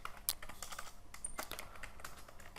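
Rapid, uneven keystrokes on a computer keyboard while terminal commands are typed, a close, dry clatter of clicks with a few sharper taps throughout.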